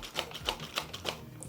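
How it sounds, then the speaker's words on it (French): Keys on a cheap computer keyboard rattle and clack under heavy presses, four evenly spaced sharp clicks up close with no talking. "Si on applique la moindre pression assez lourde sur le clavier, vous voyez, ça fait un bruit très désagréable et surtout toutes les touches elles bougent"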